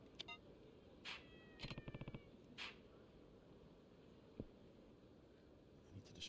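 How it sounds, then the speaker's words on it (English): A cat in Yakuza 3 gives a few faint, brief meows with short purring bursts, set over quiet game ambience and scattered clicks. "Oh, cat."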